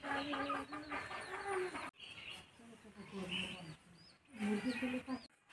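A desi hen treated for a common winter illness, with potash and a coating applied to its body, gives repeated close clucks and squawks in several bursts, with a person talking between them.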